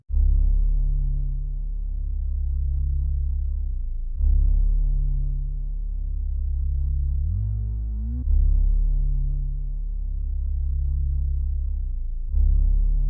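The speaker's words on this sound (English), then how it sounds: "After that, I just added this synth bass." A deep synth bass in FL Studio plays long sustained notes under a dark ambient loop, swelling and fading in slow pulses, with a sliding pitch bend near the middle.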